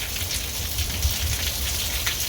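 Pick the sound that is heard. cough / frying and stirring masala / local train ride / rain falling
rain falling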